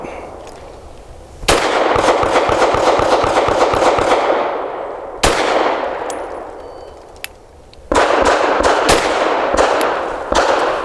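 Rapid strings of sharp pistol shots from an FN 509 Midsize firing Federal Syntex Training Match 124 grain rounds, loud and close, in three bursts with brief gaps, each crack ringing out.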